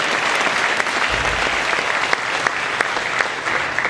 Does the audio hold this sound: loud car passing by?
no